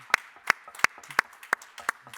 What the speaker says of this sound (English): we should have made a digital applause for Andreas